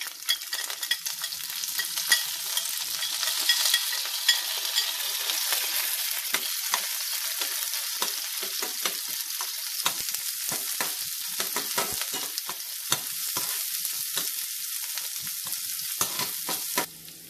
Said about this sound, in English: I am going to add the shallots, curry leaves and the green chilies into this.